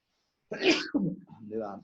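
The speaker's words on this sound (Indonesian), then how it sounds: "Mohon maaf, bersin ya." A single close, sharp sneeze bursts out after a moment of silence, followed by a brief breathy voiced sound.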